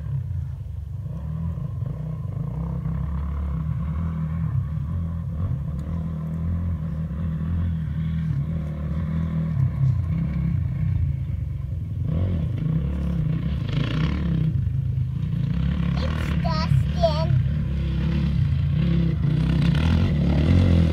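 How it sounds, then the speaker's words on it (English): A Honda 450X four-stroke dirt bike holds a steady, loud engine drone with rising and falling throttle, continuous throughout and fairly close, without talk. "that's Jordan on Dustin's bike"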